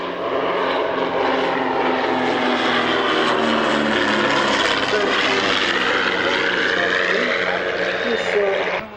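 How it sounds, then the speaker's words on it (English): A de Havilland Dragon Rapide biplane with Gipsy inline engines drones past at an airshow, a sustained propeller roar that swells and slowly shifts in pitch as it passes, with a commentator's voice running over it. "from your left, the de Havilland Dragon Rapide"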